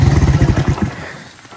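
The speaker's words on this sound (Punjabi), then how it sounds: "ਤੂੰ ਆ ਕਰਨਾ ਸਟਾਰਟ ਕਰ ਮੋਟਰਸਾਈਕਲ" A motorcycle engine chugs in a quick, even pulsing rhythm close by, then fades away over the second half.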